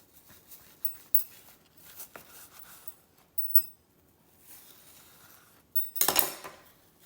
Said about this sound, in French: je prends l'autre partie qui ne coupe pas du couteau, la partie plate, pour ne pas couper mon moule